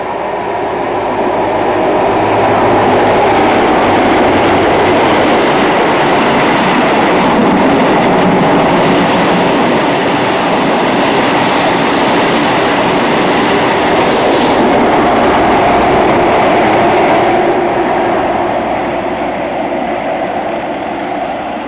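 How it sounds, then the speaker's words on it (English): An empty-stock HST passenger train rolls through Larbert station, a loud, steady rumble with rhythmic clickety-clack from the wheels over the rails, building and holding for the whole stretch before easing slightly at the end. "We're now leaving Larbert station. We did get the empty stock HST movement"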